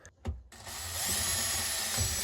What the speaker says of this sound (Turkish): Delme ucunu getirmeyi unuttuğum için akıllı vida ile deliyorum.